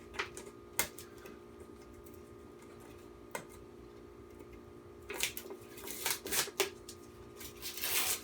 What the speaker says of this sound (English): watching the beer tuber struggle to get the tape off of the beer